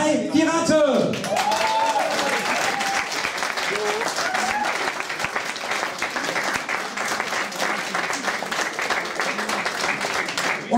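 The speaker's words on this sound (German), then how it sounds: "Das ist euer Applaus." Sustained audience applause after a Schlager revue concert encore, with a dense wash of clapping from a large crowd, steady and lively throughout, with a voice speaking briefly at the start.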